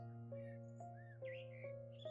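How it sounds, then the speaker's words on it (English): A bird in the video game Of Bird & Cage gives several short, rising calls over a sustained low musical drone, quiet and evenly spaced. "It's a bird."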